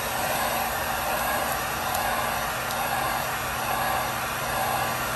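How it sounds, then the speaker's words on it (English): A heat gun warms an epoxy-coated glitter tumbler, giving a steady, loud, close rushing blow of hot air that holds unchanged throughout, with no talking. "So I'm just taking my heat gun. I'm going to heat this tumbler up."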